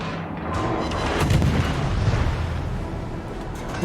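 A tier 1 cruiser, the Hermelin, trades fire in the World of Warships video game, with heavy booming gunfire and rumbling explosions forming a loud, continuous roar without speech.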